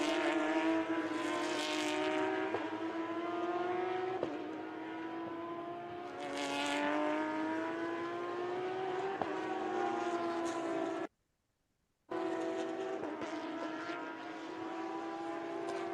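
The number 10 race car on a qualifying lap at Algarve, engine note climbing through gears in repeated rising sweeps with sharp shifts, steady and fairly close, cut by a one-second dropout before the engine note returns.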